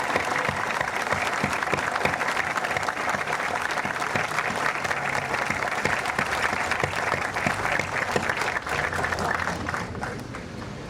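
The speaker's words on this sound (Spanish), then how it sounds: "pido unos fuertes aplausos para el periodista César Hildebrand" Sustained audience applause welcoming journalist César Hildebrandt at an evening book presentation, a dense, loud wash of many hands clapping continuously for about ten seconds before easing slightly.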